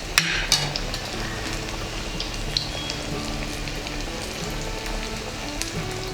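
Crispy masala vadas deep-fry in oil over a medium flame, a steady close crackling sizzle with scattered small pops and a couple of faint utensil taps.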